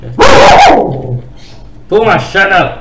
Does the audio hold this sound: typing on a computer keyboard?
no